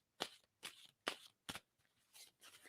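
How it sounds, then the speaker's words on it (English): Cards being riffle-shuffled up close, about six quick crisp bursts separated by brief pauses. "I'm going to stop shuffling"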